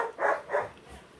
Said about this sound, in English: that's my dogs in the freaking background